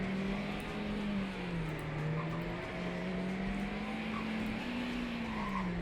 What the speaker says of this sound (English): I'm going to do a quick demonstration here in this Lotus Elmira. Let me just drive